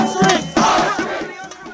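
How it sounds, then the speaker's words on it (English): A crowd of protesters in a public park shouts and yells together, a loud, continuous mass of raised voices with surges of louder cries. "The Be Kind Brigade then proceeded to shout and make as much noise as they could."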